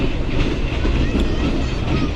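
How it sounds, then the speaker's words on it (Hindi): A Pakistan Railways Green Line train runs between Lahore and Rawalpindi, heard as a steady rumble of wheels on track with faint rhythmic clatter, close by. "ड्राइवर साहब जो हैं वो अपनी परमिसिबल स्पीड के नीचे नीचे ही ट्रेन को चला रहे हैं"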